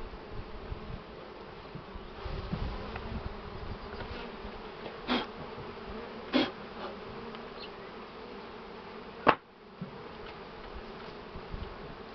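Honey bees drone steadily around an 18-frame hive, a close, continuous buzz with a few louder passes of single bees flying near.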